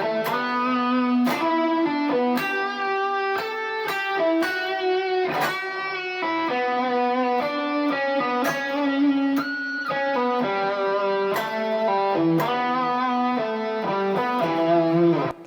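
Distorted electric guitar repeats a short three- or four-note rhythmic figure, stepping it up and down through a scale in a steady, continuous run with no talking.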